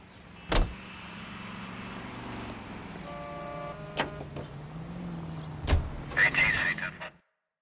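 Car sounds in the LA Noire video game: a door thud, a steady engine hum, a sharp click, then a final door slam and mechanical rattle before silence.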